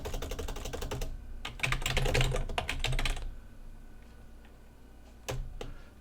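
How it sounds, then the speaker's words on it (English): Fast bursts of typing on a computer keyboard, dense clattering keystrokes for about three seconds, then a quiet stretch broken by a few isolated taps near the end. "I'm going to type this."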